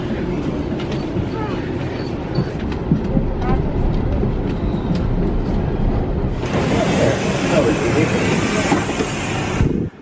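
A Toronto commuter train rumbles and rattles as it pulls slowly into the station, then a loud hissing roar rises over the last few seconds.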